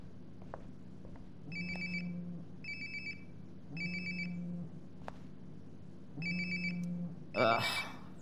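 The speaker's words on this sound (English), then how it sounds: "Sounds like my phone is definitely nearby." In the game Life is Strange: Before the Storm, a mobile phone rings nearby in repeated electronic ringtone bursts, four or so evenly spaced chimes over quiet room tone, with a brief voice at the end.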